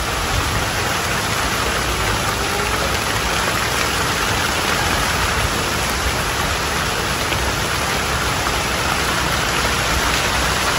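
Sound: rain

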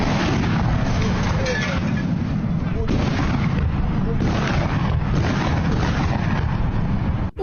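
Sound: explosion of Russian UPAB-1500 guided aerial bomb

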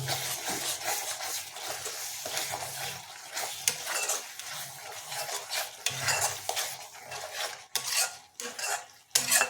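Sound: stirring spices in a pan with a spatula for paneer curry

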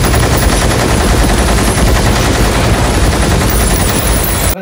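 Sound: machine gun fire in the Animal movie trailer

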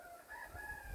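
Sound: rooster crowing

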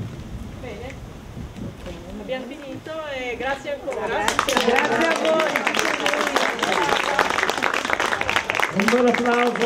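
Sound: audience applause after a reading

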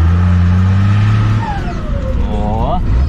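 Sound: truck engine revving on acceleration

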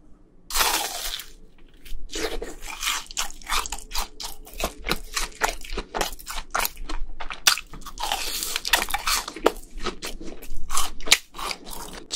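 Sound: crunchy cheese ball being bitten and chewed

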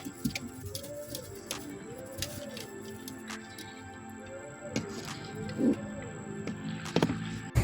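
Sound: bird

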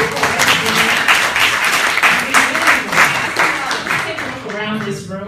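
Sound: audience applause

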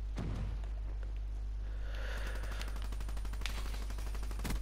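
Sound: gunfire from a gun in a video game

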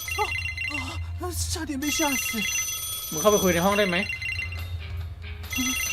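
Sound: telephone ringing in video game The Bridge Curse

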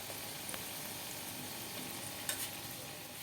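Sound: lentil fritters (dal bora) frying in oil

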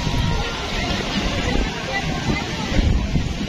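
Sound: strong wind blowing into the microphone

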